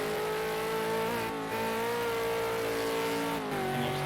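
A V8 Supercar engine at Bathurst's Mount Panorama drones loud and close under engine braking, its pitch shifting steadily with a couple of gear changes and no voices.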